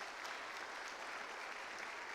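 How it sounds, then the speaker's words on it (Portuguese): A church conference congregation applauds in a steady, dense wash of clapping that fills the room for the full two seconds without a break, fairly soft and even, with no voices rising above it. "Vamos aplaudir ao Senhor."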